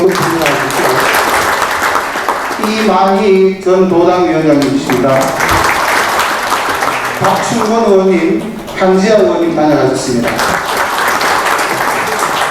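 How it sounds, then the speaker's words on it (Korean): An audience at a political forum in the National Assembly members' hall claps loudly and continuously while a man announces names over a microphone. "이다리 의원님 큰 박수 주십시오"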